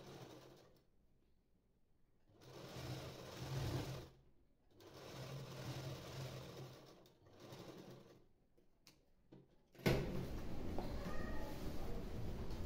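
Sewing machine stitching a three-piece princess-cut blouse, running in several bursts of steady mechanical whirring separated by brief pauses, then a louder, closer run at the end.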